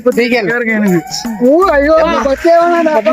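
A person's voice imitating a chicken, with loud, close, wavering clucks and squawks rising and falling in pitch, mixed with talking.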